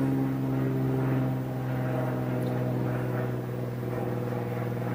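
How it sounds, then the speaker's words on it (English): A plane passing overhead outdoors, a steady low engine drone with sustained tonal hum that holds fairly loud and even throughout, with no talk. "It's a plane flying over, so bear with me."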